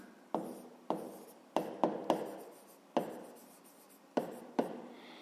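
Handwriting on paper: a series of about eight short scratchy pen strokes at an uneven pace, close and fairly quiet, with no talking.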